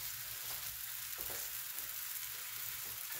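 Flatbread dough fries in a lightly oiled pan, making a quiet, continuous sizzle with faint crackles and small stirring sounds, alone and close.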